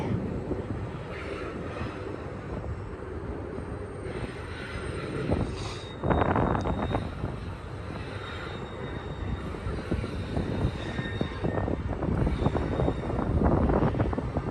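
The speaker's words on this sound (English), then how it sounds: "I can hear the DPUs coming up. They're working really hard." Union Pacific DPU locomotives working hard on a long manifest train give off a continuous deep diesel roar with rumble, rising in intensity partway through and staying loud to the end.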